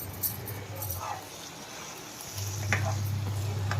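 A large-prawn curry with fresh coriander is stirred in a hot pan, giving a low, steady sizzle with soft scraping as the spoon moves through it, fairly quiet and close.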